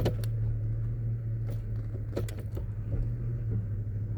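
A 2005 GMC Yukon XL 1500 2WD engine idles steadily with a low, even hum, broken by a few brief clicks and rattles nearby.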